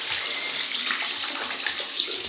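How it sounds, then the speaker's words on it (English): Running water pours steadily from a tap as hands are rinsed after a shave with a double-edge razor, a close, continuous hiss and splash with no talking. "just rinse the hands."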